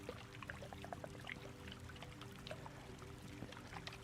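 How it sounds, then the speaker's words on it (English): Faint water trickles and drips softly in the background of a quiet indoor ASMR session, with small scattered splashes and no talking. "Just add a few little water sounds in the background."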